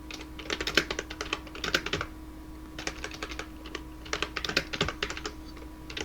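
Code is typed on a computer keyboard in quick bursts of clicky keystrokes, near and clear, separated by short pauses, with no talking.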